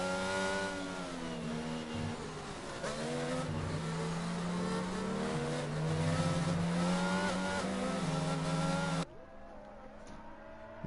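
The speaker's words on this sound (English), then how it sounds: "There we go. Safety car takes off." A Mercedes AMG safety car in a racing video game accelerates hard through the Singapore circuit, its engine note climbing steadily in pitch through the gears, loud and continuous, before cutting off sharply near the end.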